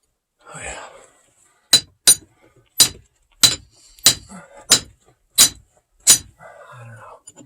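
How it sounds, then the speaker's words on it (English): A framing hammer strikes steel in a silver mine 400 feet underground, eight sharp metallic clinks in a steady rhythm, close and loud, after a brief burst of noise, with faint mine background between blows. "Just getting ready to load here. With a framing hammer."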